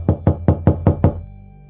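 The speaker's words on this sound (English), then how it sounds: "there came a knock at the door" Six evenly spaced knocks on a door sound close and loud in a quick steady rhythm, then a short resonant fade, with no voices.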